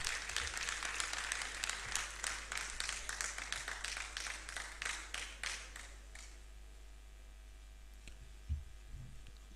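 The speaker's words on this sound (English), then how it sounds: "Let's clap for them as they take their seats." An audience claps for quiz competition presenters returning to their seats, a steady burst of applause that thins and fades after about six seconds, leaving a quiet hall with a few faint bumps.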